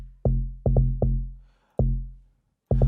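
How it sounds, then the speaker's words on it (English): A log drum bass line played in FL Studio for a soulful deep house track: deep, woody, pitched bass hits with a sharp attack and quick decay, sounding alone in a sparse syncopated pattern. "I'll play the log drum alone."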